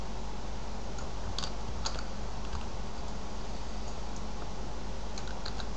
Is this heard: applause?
no